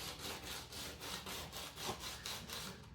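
Sandpaper rubbed back and forth against a guitar bridge saddle, a close rhythmic scratchy rasp with about eleven quick even strokes, faint and without speech.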